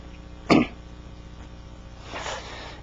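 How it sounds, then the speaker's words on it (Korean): A single sharp cough from a member of a church congregation, close and fairly loud, followed by a softer breathy rustle of room noise a moment later. "기침하는 거 보니까 감기 드셨구나"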